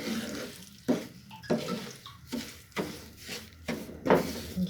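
Semolina roasting in ghee over a low flame for halwa, stirred with a spoon in a pan, giving soft, rhythmic scraping strokes roughly every second over a faint background.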